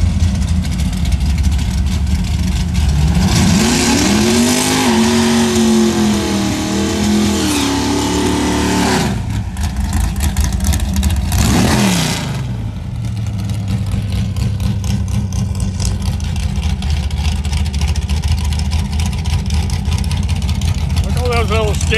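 Plymouth Duster and Ford Mustang at a dragway reunion shootout, engines idling then revving hard in rising and falling sweeps before a loud launch, with a commentator talking throughout.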